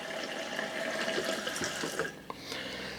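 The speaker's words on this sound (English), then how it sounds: "Sink, again, turns on," RV sink faucet turned on and running hot and cold water, a steady close splashing stream into the basin with a brief dip near the end, no talk.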